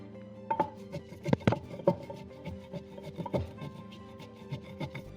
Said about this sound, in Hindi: कीमा अपने मसालों में डाला हुआ है। अब हम इसे अच्छी तरह से कूट लेंगे।